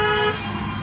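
A short car horn blast, clear and fairly close, sounding briefly over steady road and engine noise before cutting off, during an Indian driving lesson.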